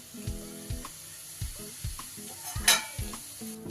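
Whole cumin, bay leaf, dried chillies, cardamom, cloves and cinnamon sizzle in hot oil for tempering. A soft hiss runs under a series of sharp clacks and knocks from a spoon against the pan.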